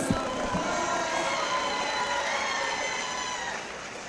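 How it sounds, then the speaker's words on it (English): A fight-night crowd at a lightweight boxing bout applauds and cheers the two boxers, a steady, dense wash of noise filling the arena from start to finish. "let's give these two boxers one more big round of applause"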